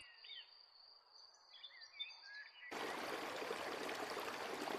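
Cartoon water pouring into a bird's nest, a steady broadband rushing flow that starts abruptly midway and continues loud. Faint high bird chirps sound beforehand.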